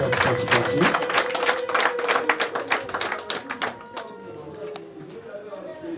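Audience clapping at a Rwandan cow-gift ceremony, a burst of quick claps that turns into a rhythmic clapping pattern and trails off, while someone speaks over it.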